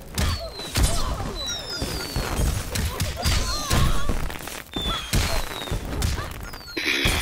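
Fireworks bursts in a Mortal Kombat X match, a barrage of loud booms and crackles mixed with whistling rockets and game fight sounds, repeating nonstop.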